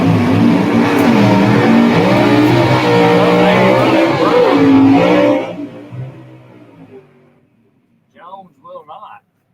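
Camaro drag race cars launching side by side at a Southeast Gassers Association meet, a loud roaring engine run under an announcer's voice that fades quickly into the distance, followed by a brief quiet with a few faint sounds.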